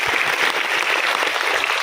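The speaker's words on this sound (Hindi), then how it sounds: "और एक बार जोरदार तालियां दीजिए हमारी कंपनी की मैनेजमेंट के लिए," Thick, sustained clapping from a big audience at a Vestige company gathering in Guwahati, even and loud throughout with no voices on top.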